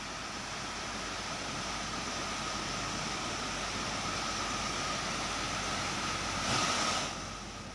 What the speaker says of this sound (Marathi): जुन्नरमधल्या कुशिरे धबधब्याचं हे सौंदर्य.